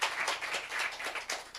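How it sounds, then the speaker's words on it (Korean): A church congregation claps together in thanks, a brief burst of scattered hand claps filling the room at a steady level, with no voices over it. "그다음에 수고한 우리 승만 형제에게 다시 한번 감사의 박수를 드리겠습니다."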